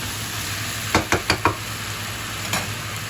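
Sticky rice mixture with Korean ingredients being stirred in a pot, four quick scraping spoon strokes in a row and one more a moment later over a low steady background hiss.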